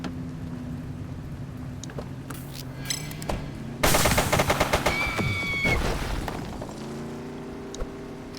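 Gunfire breaks out in the police game The Precinct: after a quiet stretch of low ambient hum, a loud burst of rapid shots rings out for about two seconds, then fades back to calm background noise.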